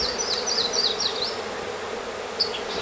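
Bees buzzing at a hive, a steady close insect drone with wavering pitch, loud and continuous with no voices.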